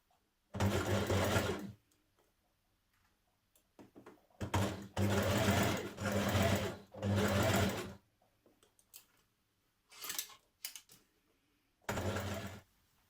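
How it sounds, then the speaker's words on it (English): A sewing machine top-stitches around the edge of a tie-front dress in loud, close bursts of fast rhythmic whirring, with short quiet pauses between runs. "And now we're going to top stitch that the whole way around."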